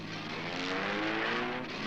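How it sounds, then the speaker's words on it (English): A cartoon car roars off, its engine a steady loud rumble that holds for the whole two seconds, with no voices over it. "We got into the car and roared off."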